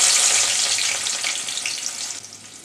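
Chopped onion hits hot oil with a loud, bright sizzle that starts strong and slowly eases as it keeps frying, close up with no voices.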